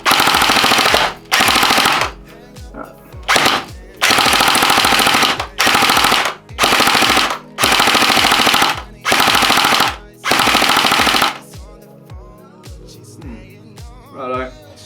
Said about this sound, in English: Rightio, Alpha King CPAK chrono test.